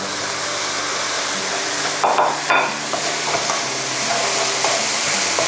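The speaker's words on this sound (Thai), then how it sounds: "ผัดไฟแรงๆนะคะ ให้ทุกอย่างส่วนผสมเข้ากันจนแห้งค่ะ" Pork and mushrooms stir-fried over high heat in a pan, a loud, steady broadband sizzle filling the whole stretch, with a couple of brief scraping stirs near the middle and no voices.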